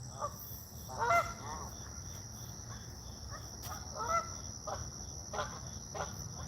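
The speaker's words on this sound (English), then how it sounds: "The geese are out this morning" Geese honking at daybreak on a river in Virginia's Shenandoah Valley, several distant calls scattered over a steady hiss of crickets and morning ambience, fairly faint.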